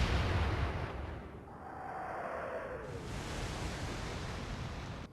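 Naval gunfire from warships in the Atlantic Fleet video game, a loud boom at the start followed by a long rushing roar and a shell whistle that falls in pitch, with ocean-like wash underneath.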